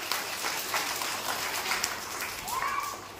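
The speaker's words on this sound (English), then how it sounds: "Then put a clap." A class of children claps together in a classroom, a busy patter of small hands lasting a few seconds, with a short voice rising over it near the end.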